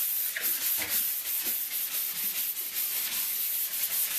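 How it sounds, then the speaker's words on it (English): A sanding sponge scuffs a painted wall in a steady run of close, rough rubbing strokes, a continuous gritty hiss with slight rhythmic surges, and no voices. "I kind of like these sanding sponges though. They're real nice, they move quickly"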